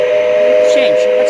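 An O gauge model train's electronic whistle sounds a steady, loud tonal blast for the whole moment, unbroken and fairly close, with faint voice traces underneath.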